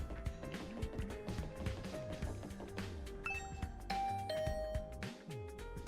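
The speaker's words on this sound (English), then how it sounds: "I rang the doorbell to Tsubasa's room." A doorbell chime rings in the video game The Hundred Line, set among busy game music and effects, with tones standing out over the layered background.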